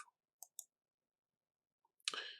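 Sharp mouse clicks on a computer while saving a rule in Outlook: three quiet ticks early on, then a louder, longer burst of clicking and handling near the end, with no talk.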